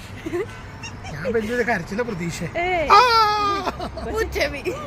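A baby girl cries after a blood test at a hospital, with rising and falling wails and whimpering sobs that come close and loud, while adults talk over and between the cries.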